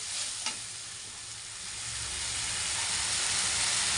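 Tomato cooking in a pan, a steady loud sizzle and hiss that swells toward the end, with one brief knock of a utensil near the start.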